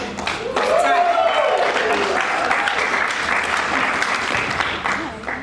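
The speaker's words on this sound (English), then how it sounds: "One more round of applause for the Bakers crew." Crowd applauding at a graduation celebration performance in Utah, loud sustained clapping and cheering that fills the space for several seconds, with voices and a whooping call mixed into the noise.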